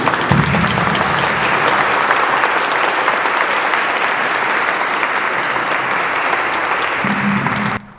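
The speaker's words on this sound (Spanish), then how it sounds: "Le damos un aplauso para la señora." An audience at a church conference applauds a speaker, with loud, dense clapping sustained for about seven seconds before it cuts off, and brief voices at the start and end.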